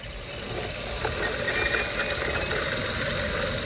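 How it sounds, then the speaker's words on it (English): A small rotary tool spins a saw blade to trim a homemade jewelry sanding tool, giving a steady, close motor whir with a faint grinding texture and no talking. "So then I'll take my saw, and as I'm spinning that"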